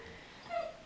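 A dog whimpers softly after a bath, a short thin whine rising briefly near the end over quiet room tone.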